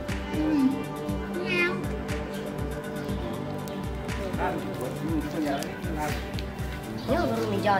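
A house cat meows repeatedly near a woven plastic mat, several drawn-out close meows over a steady background while a person talks alongside.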